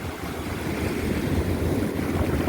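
Ocean waves wash up on Flagler Beach, Florida, a steady, loud broadband rush of surf close by with wind buffeting the microphone and no voices.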